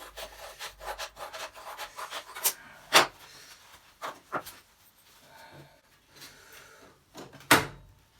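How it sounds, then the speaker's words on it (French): A wood chisel pares a worn section of a wooden piece, giving a series of dry scraping and rubbing strokes broken by a few sharp, louder cuts, heard close up with no talking. "mettre un petit coup de ciseau, puisque cette partie-là, elle est bien usée"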